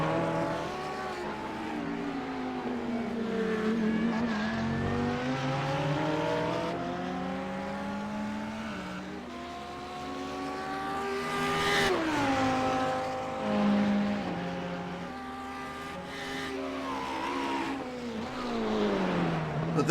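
A GT3 race car drives the Nordschleife, its engine revving hard through rising and falling gear changes, sustained and loud with smooth pitch sweeps as it accelerates and brakes through corners.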